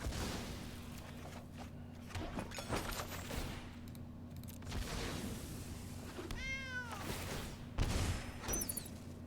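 A cat meows in the MTG Arena digital card game, a short cry rising above game effects and background music, with brief bangs and crackles around it.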